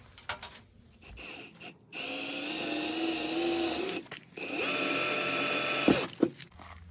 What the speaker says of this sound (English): It says to drill those, so I'm gonna drill them.